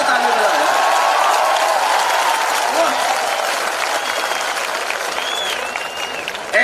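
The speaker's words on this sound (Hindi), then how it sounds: "बार बार कहने की क्या जरूरत है ताली बजाओ" Audience at a Hindi comedy poetry gathering (kavi sammelan) claps in a loud, dense burst that holds steady and eases slightly, with a voice speaking over the applause.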